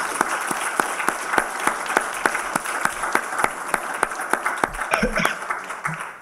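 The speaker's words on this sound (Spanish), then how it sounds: "aquí acaba de recibir un muy caluroso aplauso" Warm applause from an audience closing out a remote talk on new technologies for evaluating carcasses and meat, a steady patter of many hands with a few louder individual claps, and faint voices rising near the end.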